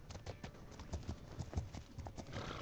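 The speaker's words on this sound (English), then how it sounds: "Oh, that's a pretty horse." Horse hooves clip-clop in the video game The Legend of Khiimori, a quiet, steady rhythm of soft hoof knocks at a walking pace.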